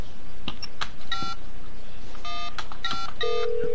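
Phone dialing in the Sleeping Dogs video game: a quick run of clear electronic keypad tones, several short bursts spaced irregularly, ending with a longer steady tone, loud and close with no voices.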